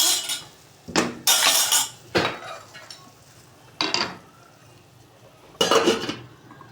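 Metal pots and pans clink and clatter as a lid is set over a pot of meat in a home kitchen, several sharp separate clanks in an irregular rhythm, close with quiet gaps between.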